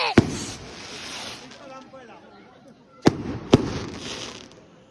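Fireworks burst outdoors: one sharp bang at the start, then two more close together a few seconds later, with crackling and voices in between.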